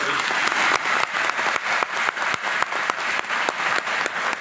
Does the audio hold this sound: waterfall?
no